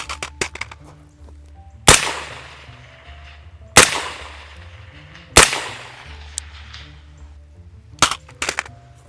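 A loaded handgun fitted with a Gen 2 PMAG magazine is dropped and hits the ground. Four sharp, separate impact cracks come at roughly even intervals, followed by a couple of smaller clatters and no speech.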